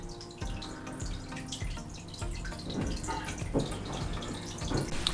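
Seachem Reef Dip, two capfuls for four litres, poured from a cap into a container of water for coral acclimation, giving steady close trickling and dripping that runs throughout with small splashes.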